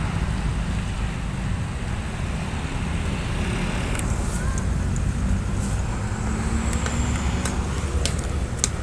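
Buses drive past on a busy road, giving a continuous broad rumble of engines and tyres with rising and fading passes and faint brief higher clanks, steady and moderately loud, with no clear speech.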